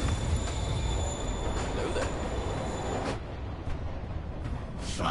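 A train rushes past in a Spider-Man video game with a loud, continuous rumble, rattling wheels and a high metallic squeal, while voices are partly audible underneath.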